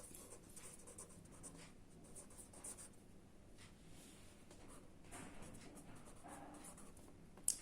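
Pen or pencil writing on paper, faint and close, a soft continuous scratch with short pauses between strokes, with no one talking.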